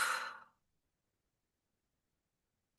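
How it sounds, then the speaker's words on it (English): A single full exhale of breath during a kundalini yoga practice, a soft breathy rush lasting about half a second, close and fairly faint, followed by silence. "And full exhale."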